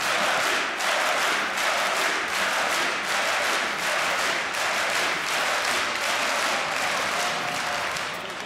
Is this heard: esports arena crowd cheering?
yes